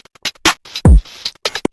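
A dubstep drum loop run through a lo-fi preset for a playful 8-bit video game character: crunchy, bit-crushed hits including a booming low kick in the middle and clicky, gritty snares and hats, played alone in a short pattern.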